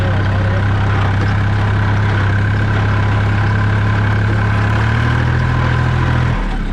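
An ISEKI TA270 27-horsepower tractor engine runs in high gear with a steady, loud, close diesel drone and deep low rumble that shifts slightly in pitch near the end before dropping away; no voices.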